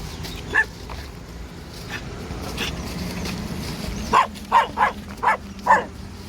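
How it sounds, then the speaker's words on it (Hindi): A Bakarwal herders' dog at a camp near buffaloes along a highway, giving one bark and then a quick burst of five sharp barks, moderately close, over low ambient noise. "ये बकरवाली कुत्ता है शायद"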